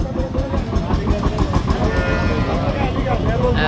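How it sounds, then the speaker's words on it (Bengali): A Pakistani-breed cow with a heifer calf at a roadside cattle market moos amid a dense, continuous din of market crowd noise and nearby voices. "আমরা দেখছিলাম আরও একটা গাভী সাথে বকনা বাচ্চা"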